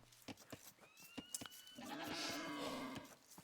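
Sheep bleat in the Age of Empires 2 video game, one short call followed by a louder, sustained bleat. Sharp clicks and game sounds are scattered throughout.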